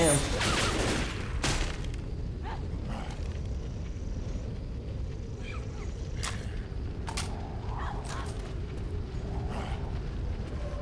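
Gunfire in the video game Left 4 Dead 2, a few sharp shots near the start followed by scattered bursts under a constant noisy game bed, with faint voices.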